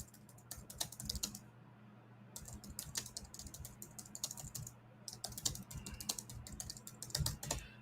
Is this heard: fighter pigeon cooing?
no